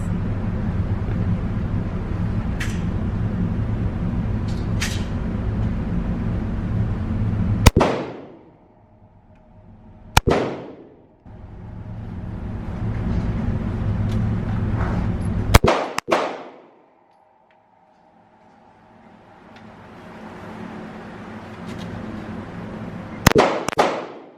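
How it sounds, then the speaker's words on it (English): Pistol shots from a Smith & Wesson Shield Plus on a shooting course, a handful of loud, sharp reports spaced several seconds apart over steady background noise. "Alright guys, course of fire number 1 with the Shield Plus."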